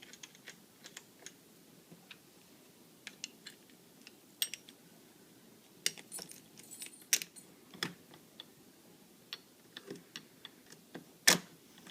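Small scattered ticks and clicks come from a screwdriver tightening the doorknob screws on a fiberglass entry door, with quiet irregular taps and a sharper click near the end, heard close up with no talk.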